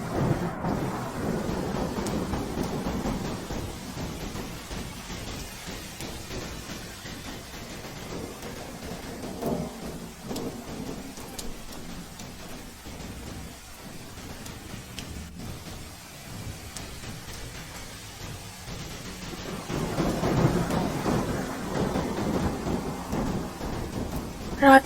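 Rain pours steadily at night while rolling thunder rumbles in long low swells, building louder toward the end, in an animated horror story setting.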